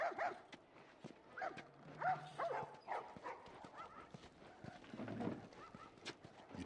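Dogs in the video game The Last of Us yip and bark in scattered short bursts at moderate distance within a busy game scene, with footsteps and other ambient noise and a voice talking.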